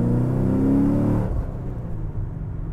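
A 2011 Camaro SS V8 pulls hard in a second-gear roll-on, a loud rising engine drone that climbs, then drops abruptly into a lower rumble as the throttle eases, heard close from inside with no talk.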